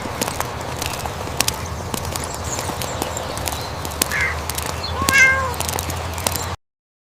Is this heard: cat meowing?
yes